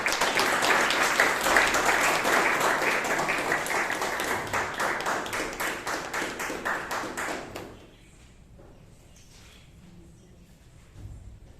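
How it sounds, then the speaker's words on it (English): A Toastmasters meeting audience in Bangalore claps for an introduced speaker, steady dense applause that slowly thins and breaks off near the end, leaving a quiet room with faint shuffling. "Let's have a big round of applause."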